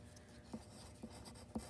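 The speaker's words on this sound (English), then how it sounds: "Hope you guys can see my pencil writing okay" A pencil scratches across paper in faint, steady strokes, with a few slightly firmer taps as it moves along a worksheet line; quiet and close, with no talking.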